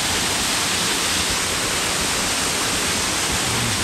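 Pito Waterfall on the leeward side of St. Vincent, a loud, steady broadband rush of falling water filling the whole scene with no pauses and no voices.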